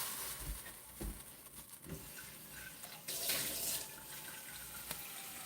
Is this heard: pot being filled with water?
yes